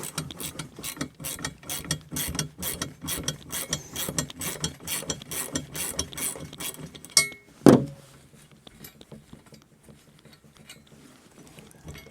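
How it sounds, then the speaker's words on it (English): Ratcheting wrench working the hardware on a steel shooting target post, a rapid, steady run of close metallic clicks for about seven seconds, then a sharp clink and a brief rattle before it goes quiet. "I just get the ratcheting wrench out here, break it apart, put it back together, and I'm ready to go."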